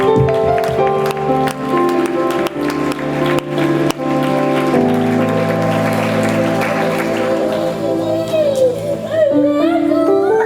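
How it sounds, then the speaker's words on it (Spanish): Church audience gives a loud, sustained round of applause to welcome visiting speakers, dense clapping throughout with music tones underneath. "Vamos a dar un fuerte aplauso"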